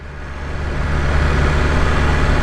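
A new-model BMW S1000RR superbike on a demo-day test ride, its engine droning steadily with low rumble and broadband road and wind noise that builds slightly and holds constant, with no talk.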